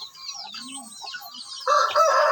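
A Shamo chicken rooster crowing nearby, with a bright, strained crow rising at the end over softer clucks and calls from other fowl.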